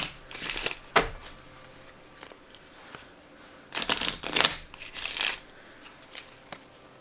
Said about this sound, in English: I'm going to shuffle these